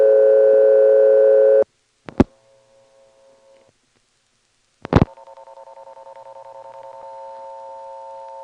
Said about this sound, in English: the hum was being modulated by the pulsation for the ticking tone